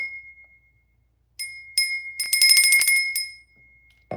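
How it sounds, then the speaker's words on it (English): A small handheld bell rings out loud and bright: a few sharp rings with a steady, sustained tone and some metallic jangle. They fall in the middle of an otherwise quiet stretch at a card-reading session. "I'm gonna have to get a smaller bell."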